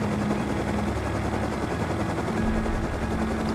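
The minicopter in the video game Rust lifts off with a loud, steady rotor drone and engine whir that holds constant and close throughout, no voices.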